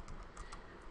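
A few quick, faint keystrokes tap on a computer keyboard in a short burst, very quiet and close.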